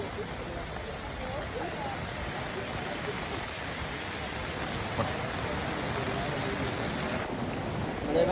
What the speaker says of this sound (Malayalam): ഇവിടെ ഇപ്പോൾ ശക്തമായിട്ടുള്ള മഴയാണ് പെയ്യുന്നത്.